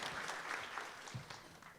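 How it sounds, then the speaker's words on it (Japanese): Applause from a symposium audience, a dense, fairly soft patter of many hands clapping steadily throughout. "皆さんもう一度大きな拍手をお願いいたします"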